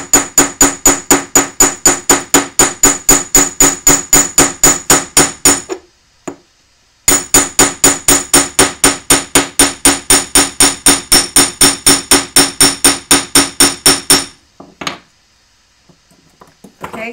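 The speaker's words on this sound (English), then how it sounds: "I like to hammer just the petal because it sort of makes it, it sort of blooms" A hammer strikes a metal flower petal to flatten it, ringing out in two long runs of fast, evenly spaced, loud metallic blows separated by a short pause, with a few scattered taps at the end.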